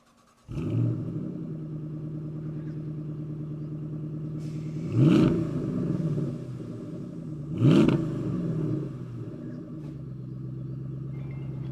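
A 2014 Shelby GT500 with a supercharged 5.8-litre Trinity engine drives along. It settles into a steady low rumble, then revs up twice with rising whine and roar, heard from inside the car with no talk.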